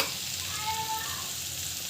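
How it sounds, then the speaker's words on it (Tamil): Turmeric powder sautéing in hot oil, a continuous close sizzle with crackling spits, steady and moderately loud with no voices. "நல்லா வதங்கட்டும்."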